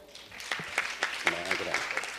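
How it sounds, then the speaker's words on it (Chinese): Council members at the New Taipei City Council's inaugural session clap to approve a motion, giving quick, evenly spaced claps over a low murmur of voices. "好，没意见，鼓掌通过。"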